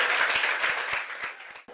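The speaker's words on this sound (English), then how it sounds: "You can clap for yourself." A school class claps for themselves in a short, lively burst of many hands that thins out and stops after under two seconds.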